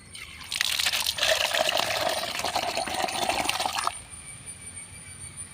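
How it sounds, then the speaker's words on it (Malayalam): Water poured into a homemade spray mixture for brinjal plants makes a steady, close splashing stream for about three seconds, then stops and leaves near silence. "ഇത്രയും കൂടെ വെള്ളം ഒഴിക്കുക"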